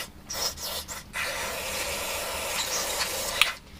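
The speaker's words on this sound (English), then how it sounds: "if we open the throttle body and then spray up into here" Carb cleaner sprays in a steady hissing jet up into the open throttle body of an outboard motor carburettor, a few short bursts then one long continuous spray, close and alone.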